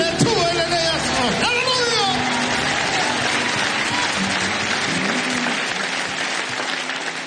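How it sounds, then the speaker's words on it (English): Church congregation claps and cheers during a Sunday morning service, a full sustained round of applause with a few voices calling out over it near the start, gradually easing off toward the end. "Give the Lord a hand clap."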